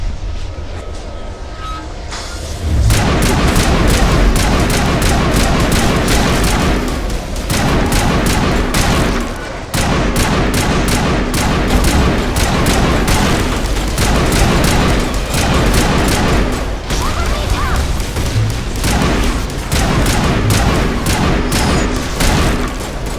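Loud grenade explosions and gunfire from the Mass Effect video game come in dense, rolling bursts that barely let up, with booming blasts and rapid crackling shots and no talking.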